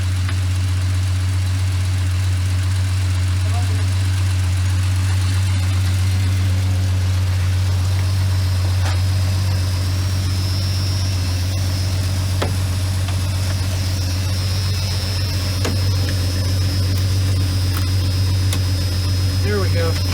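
A Jeep Cherokee engine that sat unused for over a decade idles with a loud, constant low hum, with occasional clicks and knocks over it and people talking throughout.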